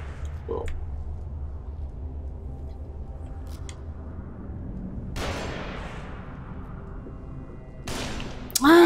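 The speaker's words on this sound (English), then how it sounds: "Some motherfucker is still here shooting." Gunfire in the horror video game The Evil Within cracks out in a couple of sharp bursts over a low rumbling backdrop, while players talk excitedly.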